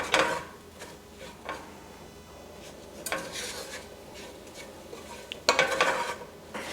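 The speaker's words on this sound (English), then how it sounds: "We're cooking the flour for just about a minute with the mushrooms." Flour and mushrooms cooking in a pan for a green bean casserole, heard as scraping stirs and utensil clatter against the pan with a soft sizzle beneath, louder scrapes near the middle and end, no talk.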